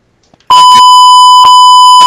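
A steady electronic censor bleep laid over gameplay chatter from a Modern Warfare 3 infected lobby: a loud sustained tone starting abruptly, briefly interrupted near the middle, and resuming at the end, with no talk heard.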